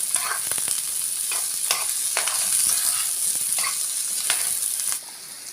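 Onions and peppers sauté in a pan before chicken wings go in, producing a close, steady sizzle with periodic stirring scrapes that eases slightly in the final moment.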